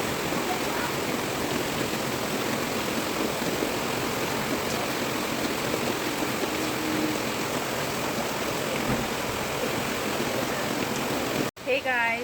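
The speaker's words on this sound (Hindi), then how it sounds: "अभी मैं आपको दिखाती हूँ बारिश, जो बहुत ज़्यादा बारिश हो रही है" Heavy rain pours steadily as heard from a balcony, a dense, continuous roaring hiss that stays loud throughout before cutting off abruptly near the end.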